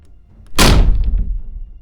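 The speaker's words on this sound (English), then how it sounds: "A loud bang resonated through the flat as the main door flung open once again" A main door of a flat flung open with a single loud bang, a sharp heavy thud that rings briefly and decays over about a second, alone without voices.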